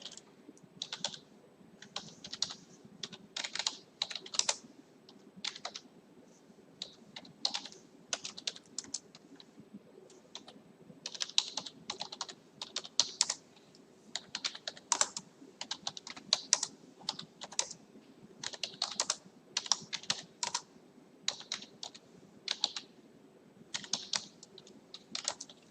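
Someone types on a computer keyboard in steady, irregular bursts of close, crisp key clicks with short pauses, over a faint background hum.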